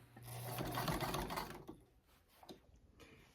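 Sewing machine top stitching pleats on a recreated 1925 man's shirt, a loud steady run for about a second and a half before stopping, followed by quieter handling noises.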